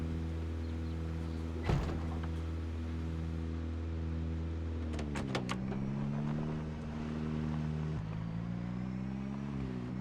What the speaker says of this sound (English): Now we have our new extra loud car.